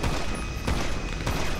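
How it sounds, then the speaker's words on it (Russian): Gunfire in GTA Online: two sharp, moderately distant shots crack out over a steady, dense background of game noise, with no talking. "Ай, по мне кто-то стреляет."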